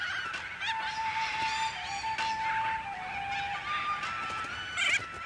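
A flock of little corella cockatoos calls in Australian farmland, a busy mix of screeches and whistling cries rising and falling over several seconds, with a sharper burst near the end.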